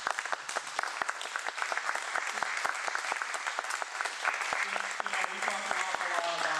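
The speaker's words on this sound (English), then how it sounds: "I think all of our candidates deserve a round of applause." Sustained audience applause at a city council election candidate forum, a steady wash of many hands clapping throughout, fairly close and even in loudness.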